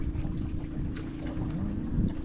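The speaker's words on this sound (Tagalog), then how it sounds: "Umihip ang hangin. Lakas nga." Strong wind gusts over open sea, recorded from a small fishing boat, with a steady low engine drone and rushing buffeting on the microphone throughout, no voices.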